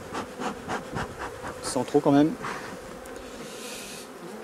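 Honey bees hum steadily around a hive during a check of the honey supers, a dense close buzz filling the background while someone speaks briefly in French.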